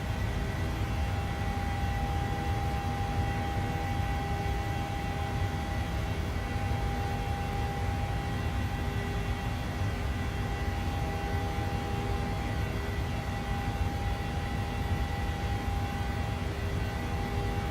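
Aircraft engine drone inside Microsoft Flight Simulator 2020 while climbing through clouds out of San Diego toward Las Vegas, a steady, loud broadband hum with a constant tonal whine that holds unchanged throughout.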